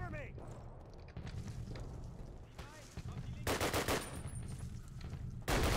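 MP44 machine gun in Call of Duty bursting in short automatic volleys, loud and close, with heavier sustained rattles in the second half, mixed with battlefield noise.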